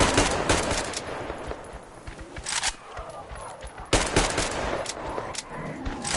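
A gun fires in bursts in the video game Metro Exodus, sharp repeated shots in short clusters broken by pauses, loud and close, with a player talking between bursts.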